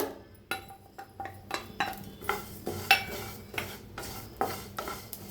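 Garlic, sesame seeds and cumin dry-roasting in a pan over medium heat, heard as a steady run of light scraping and stirring strokes with soft clinks of a utensil against the pan, close and moderately quiet with no talking.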